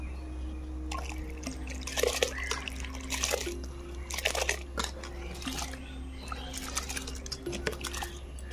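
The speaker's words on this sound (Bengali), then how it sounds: "জলটা ফুটে উঠেছে, এবার আমি ভিজিয়ে রাখা চালটা দিয়ে দিচ্ছি।" Soaked rice tipped into boiling water in a pot for chicken biryani, with scattered splashes, pattering and clinks over a low steady hum of the stove.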